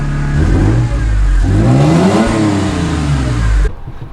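A loud, close Toyota Tacoma pickup engine runs while driving. The truck is oil-leaking and missing its shifter, and the engine rises and falls in pitch for a few seconds before cutting off abruptly.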